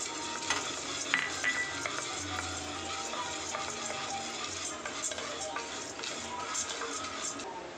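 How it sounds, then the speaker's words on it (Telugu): Roasted gram dal being stirred and roasted in a kadai for a bitter gourd and drumstick-leaf spice powder: continuous dry scraping and rattling of grains against the metal pan, with a ladle clinking now and then, close and steady. "తర్వాత పుట్నాల పప్పు వేసి బాగా వేయించుకోండి"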